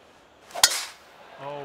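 A single crisp golf club strike on the ball in PGA 2K23, a sharp, close click followed by a short airy whoosh as the shot flies off, then a voice begins speaking.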